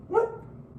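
A single short dog bark or yip rises briefly and moderately loud at the start, then fades into quiet indoor room tone, from dogs being looked after at home.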